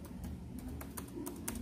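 Keys tapped one after another on a faulty computer keyboard that only partly works, giving a series of sharp, close clicks against a steady low hum.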